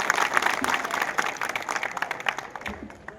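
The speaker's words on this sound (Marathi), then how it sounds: "जोरदार टाळ्या वाजवून बापूसाहेबांचं स्वागत करावं." A crowd at a BJP political rally in the Kharsundi area claps loudly and steadily to welcome a guest onto the stage, dense applause that tapers off toward the end.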